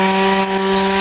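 A grass cutter drones with a steady, loud engine hum while it cuts vegetation around sweet potato plants, running continuously with no gaps.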